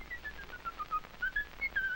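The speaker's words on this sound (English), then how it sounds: "And he's whistling." A person whistles a wandering, melodic tune in short clear notes, fairly close, with no talking.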